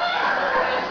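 A bird calls in an animal documentary, a brief raspy, fowl-like squawk lasting about a second, close and fairly loud with no talk over it.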